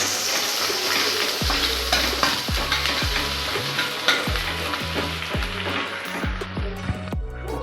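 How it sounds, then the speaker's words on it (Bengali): Loud, close sizzling of onions frying in hot oil until reddish-brown. Repeated low knocks and scrapes of a spoon stir them in an irregular rhythm. "পেঁয়াজটা একটু লাল লাল করে ভেজে নেব।"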